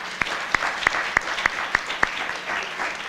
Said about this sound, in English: So one big round of applause for Kate Riffey.